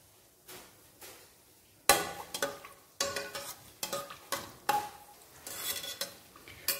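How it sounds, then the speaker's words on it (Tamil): About ten cashews frying in coconut oil in a pressure cooker, with a soft sizzle under repeated close clinks and scrapes of a spoon stirring against the metal, coming in irregular bursts. "ஒரு 10 முந்திரி பருப்பு வந்து இதில் போட்டு செவந்ததும் எடுத்து வச்சுக்கலாங்க"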